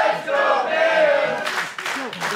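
A wrestling event crowd cheers and chants loudly and steadily, then breaks into sharper shouts and rhythmic bursts near the end, sounding close and filling the arena.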